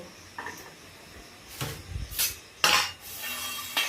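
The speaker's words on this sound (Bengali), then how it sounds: "তো এই আলুটা আমি কেটে নেব।" A knife slices through a potato on a hard surface in a few separate strokes, each a short scraping crunch ending in a light knock against the board, with quiet pauses between.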